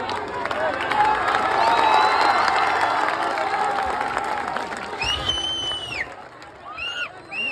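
A festival crowd claps and cheers for a Dahi Handi human pyramid in Maharashtra, a dense swell of applause that fades toward the end, with whistles and shouts poking through.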